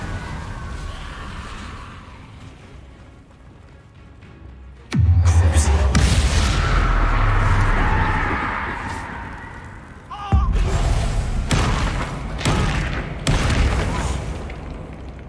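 Fiery Confringo spell blasts in Hogwarts Legacy, heavy booming explosions bursting out one after another, loud and close, with shouted voices and battle noise over them.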